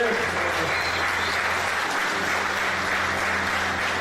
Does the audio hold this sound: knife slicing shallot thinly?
no